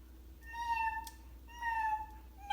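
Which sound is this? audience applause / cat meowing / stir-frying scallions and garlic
cat meowing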